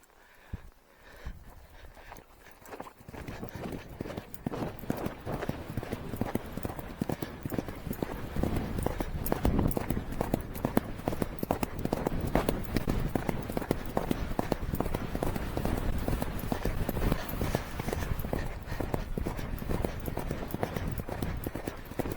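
Steady clip-clop of horse hooves walking, a continuous rhythmic beat close by over light outdoor noise.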